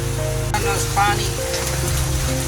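Rain falls on a street in Malaysia, a steady patter and splash across the surface, with a brief chirpy tonal sound and faint background hum mixed in.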